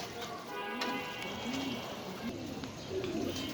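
Black Danish pigeons coo softly and repeatedly, each low, rolling coo rising and falling in a faint, steady background hum.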